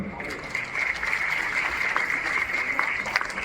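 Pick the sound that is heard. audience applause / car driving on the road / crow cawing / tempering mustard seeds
audience applause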